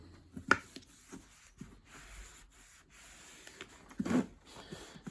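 A cloth wipes dust off the power cable of a Numatic Henry vacuum cleaner with soft, close rubbing strokes, irregular in rhythm and quiet, broken by a couple of sharper brushes and knocks.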